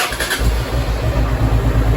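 A Honda Transalp 650 motorcycle engine running up close, a loud steady low rumble with slight pulsing throughout.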